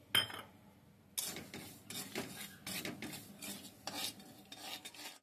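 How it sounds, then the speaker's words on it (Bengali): Semolina is dry-roasted in an empty wok over a gas flame and stirred with a utensil, producing close, repeated scraping and rasping strokes in an irregular rhythm after a short opening clink, with no talk. "এখানে আমি গ্যাসে কড়াই বসিয়ে দিয়েছি গরম হতে, সুজিটাকে শুকনো কড়াইয়ে ভেজে নিচ্ছি।"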